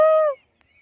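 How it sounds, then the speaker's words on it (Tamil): A peacock gives one short, loud, nasal honking call at close range, which cuts off abruptly into near silence. "மயில் சவுண்ட்லாம் கேட்குது"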